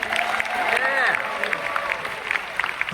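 A cruise ship audience on a sea day cheers and claps, with bursts of applause and whoops, while an amplified announcer's voice and squealing feedback tones carry over the crowd.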